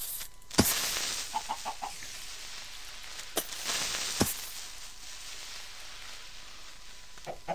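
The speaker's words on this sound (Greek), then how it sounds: "Υπάρχουν κότες." Chickens in the video game Minecraft give a few short, soft clucks in a quick cluster, set against a hissy background with several sharp, loud clicks scattered through.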